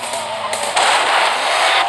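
A loud, boomy blast from an explosion in the racing game Split/Second on PSP, with a sustained rumbling wash of noise that swells midway and holds steady.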